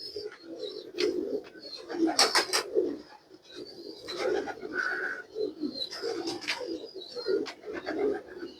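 Soft, throaty coos from breeding pigeons repeat on and off, close by, with a few brief chirps and rustles in between; no talking.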